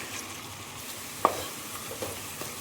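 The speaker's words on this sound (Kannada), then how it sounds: "ಇಲ್ಲಿ ಗ್ಯಾಸ್ ಫ್ಲೇಮನ್ನು ಹೈಯಲ್ಲಿ ಬಿಟ್ಟು ಫ್ರೈ ಮಾಡ್ತಿದ್ದೀನಿ" Onions frying in ghee over a high gas flame make a soft, steady sizzle, with one sharp stir or clatter partway through and a few lighter ticks afterwards; no one speaks.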